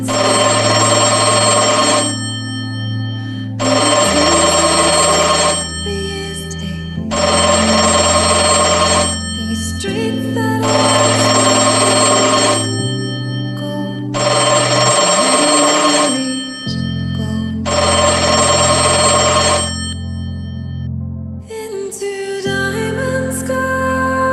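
A telephone bell rings loudly in six long bursts with short pauses between them, followed by a shorter burst that is cut off, with no voices.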